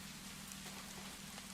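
Steady rain falling in an even, continuous hiss with faint patters on a surface, quiet and unbroken throughout.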